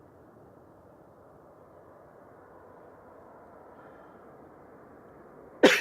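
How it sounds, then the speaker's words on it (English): A Lufthansa CityLine Airbus A319 taking off from Manchester for Munich produces a low, fairly distant engine rumble that swells slightly and holds steady, cut off at the end by a brief sharp knock. "Lufting off. Heading back to Munich with flight 2503, Lufthansa City there. an A319"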